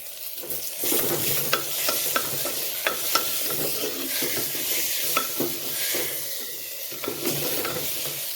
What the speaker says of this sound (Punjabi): ਹੁਣ ਇਸ ਵਿੱਚ ਆਪਾਂ ਟਮਾਟਰ ਐਡ ਕਰਾਂਗੇ ਇਸ ਨੂੰ ਹਲਕਾ ਜਿਹਾ ਸੌਟੇ ਫਰਾਈ ਕਰਾਂਗੇ